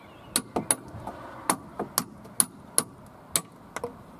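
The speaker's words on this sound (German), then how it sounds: "Und jetzt kann ich das hier mit dem Hammer" Sharp metallic hammer strikes on a VW Polo 9N tie rod end, about a dozen in an irregular rhythm, close and ringing, against a quiet background.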